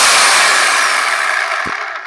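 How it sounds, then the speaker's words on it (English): A chainsaw cuts into a fairly thick branch, a loud, rough, close-up buzzing roar that gradually winds down and fades near the end. "we're gonna be cutting something like a fairly thick branch with a chainsaw"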